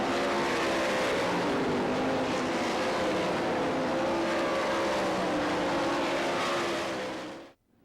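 Sprint cars roar around a dirt track at a nighttime national racing event, a dense, loud, sustained engine drone from several cars that holds steady, then cuts off abruptly at the end.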